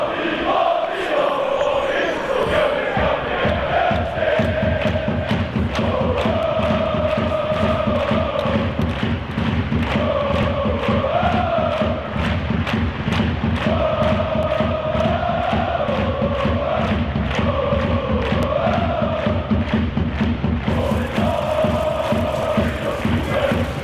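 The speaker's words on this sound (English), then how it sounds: "Norse supporters are definitely cheering that one on." Large stadium crowd in the Blood Bowl fantasy football video game cheering and chanting steadily for the Norse supporters, loud and continuous with rising and falling chant phrases and scattered thumps throughout.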